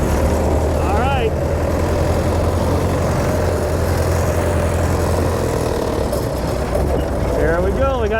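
A 1915 Dodge Brothers touring car drives steadily with a low engine drone and a gear shift partway through, while people talk over the running motor.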